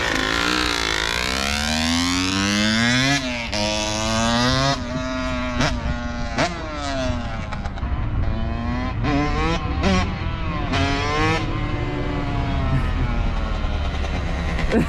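A Kawasaki KX100 two-stroke dirt bike engine revving hard and loud, its pitch sweeping up and down through repeated gear changes with brief dips between pulls, sustained throughout.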